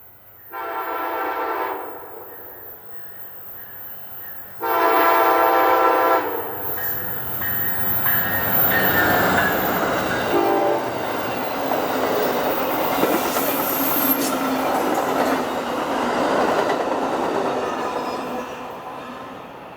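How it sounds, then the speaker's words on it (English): Amtrak passenger train 318 sounds two long horn blasts as it approaches Sherman, Missouri, then rolls past with rumbling wheels, clattering rails and a brief squeal. "The first train that we would see here this evening would be Amtrak 318."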